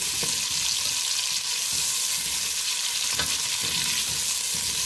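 Food sizzling and frying in a pan while cooking moong dal khichdi, a continuous loud hiss with occasional stirring scrapes, no talking.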